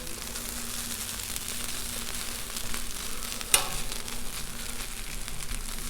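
Hash browns and red onion searing on a Blackstone griddle, a steady hissing sizzle with a sharp scrape of a spatula midway, close and continuous with no talk.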